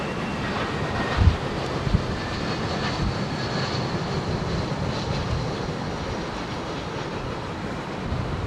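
A Boeing 787 Dreamliner jet climbs steeply away after takeoff, a steady broadband roar heard from a distance with wind buffeting the microphone.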